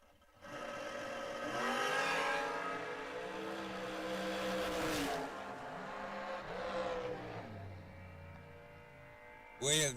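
A 1968 Camaro hot rod launches down a drag strip, its engine roaring loudly and rising through the run before fading, with an announcer talking over it.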